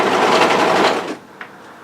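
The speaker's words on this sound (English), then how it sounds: "Sew a few stitches to hold the work together, and sew that side seam into place" A sewing machine runs in one steady whirring burst for about a second as it stitches the side seam of a rear-zip hoodie, then stops, leaving a quiet room with a small click.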